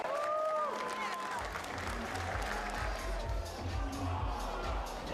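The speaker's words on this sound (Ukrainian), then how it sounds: "Оплески для Кайкара Франца." Audience applause and crowd noise fill an arena as a UFC fighter is introduced, a dense, steady roar of clapping and cheering throughout, with an announcer's voice carrying over it.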